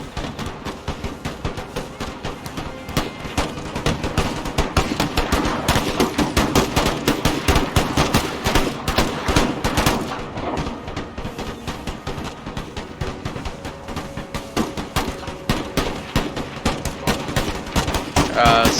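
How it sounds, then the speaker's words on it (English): Massed musket volleys in the video game Empire: Total War, with British troops and Puckle guns trading fire, form a dense continuous crackle of rapid gunshots for the whole stretch, loud and busy, with some speech mixed in. "these guys are pretty much just trading fire with the British"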